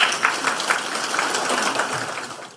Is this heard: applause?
yes